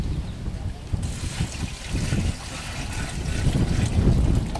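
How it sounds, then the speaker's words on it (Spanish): Water pours steadily into a container of fresh manure, a broad rushing trickle sounding close for several seconds with no voices. "En este recipiente que contiene estiércol fresco le agregaremos una porción de agua."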